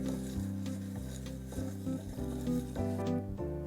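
Ice clinks and rattles as a Canchánchara cocktail is stirred over crushed and cubed ice, a quiet close churning with a few sharper knocks.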